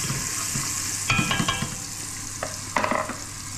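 Onions sautéing in a hot pan while being stirred for a Filipino papaitan and pakbet meal, a continuous close sizzle broken by scraping stirs and a few louder spatters, with no talking.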